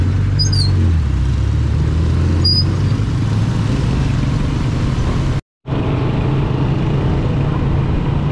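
Road traffic during a motorcycle caravan in Pangasinan forms a loud, continuous engine drone, with a couple of faint high squeaks early on and a brief dropout near the middle.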